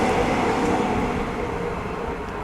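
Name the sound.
train passing near a bridge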